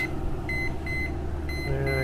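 A REC TEC pellet grill's alarm beeps after its lid is opened during a high-temperature pork butt cook, giving a series of short, clear, evenly spaced electronic tones over a low steady hum.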